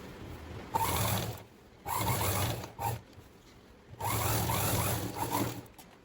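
A sewing machine stitching a churidar neckline runs in several loud mechanical bursts, close up, with short quiet pauses between the runs.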